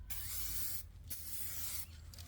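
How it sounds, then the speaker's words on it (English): Aerosol spray can hissing clear coat onto a headlight housing in two long continuous bursts separated by a brief pause, close and steady over a low background hum. "Now we can start spraying the clear onto the headlight housing."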